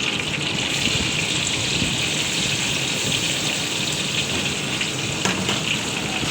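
Chili paste and ground onion frying together in a pan, a dense, steady, close sizzle and bubbling with no pauses and no voices.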